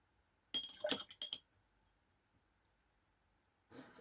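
A drinking glass holding water is slid and set down on a tabletop during a watercolour painting session, giving a quick cluster of bright clinks and taps, then a softer knock a few seconds later, close and alone.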